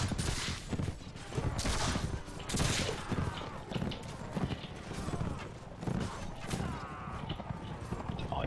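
Marksmen fire at will in Mount & Blade With Fire & Sword, giving a dense run of overlapping musket shots. The clatter of battle, including hoofbeats and mechanical noises, fills the background.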